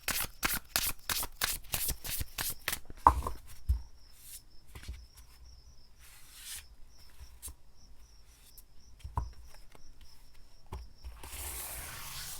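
Tarot cards are shuffled in quick, crisp riffle bursts up close, then softer sliding and tapping of the deck, with no voices.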